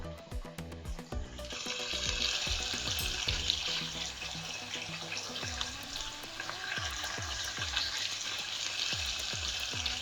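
Beef browning in a pot for stew gives a loud, continuous sizzle with dense crackle and occasional stirring scrapes. It sounds close and steady after a quieter opening second, with no one talking.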